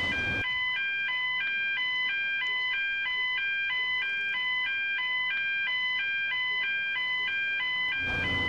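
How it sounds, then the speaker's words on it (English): Fire alarm in the firefighting game Emergency 4 with the Kent modification, a loud electronic alarm repeating a rapid two-tone warbling pattern steadily for about eight seconds with no talking. "We have an actual fire alarm activation."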